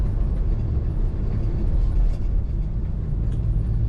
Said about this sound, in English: Today we're driving a 1964 Chevrolet 3100 pickup.